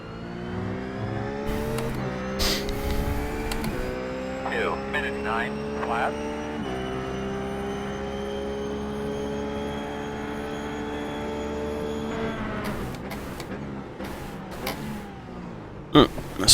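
A RUF GT3 race car engine in the iRacing sim, droning steadily loud with gear changes stepping the pitch down and then holding a sustained whine, while someone talks over it and a few sharp clicks come near the end.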